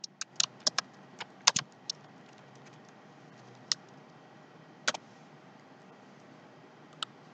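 A computer keyboard clicks in scattered close taps, a quick cluster early on and then isolated single keystrokes spaced by quiet gaps.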